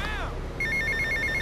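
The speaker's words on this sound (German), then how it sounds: "Telefon!" A telephone rings in GTA Vice City, a bright electronic ringtone pulsing in quick repeated bursts after a short sweeping tone, loud and close.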